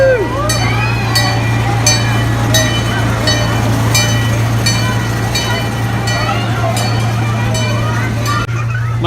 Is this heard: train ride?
yes